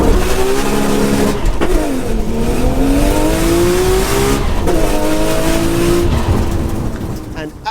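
Nissan Skyline GT-R cars, including R32, R33 and R34 models, accelerate hard in a 0 to 60 run, engine pitch climbing through gear changes with loud, close roaring and a voice talking over it.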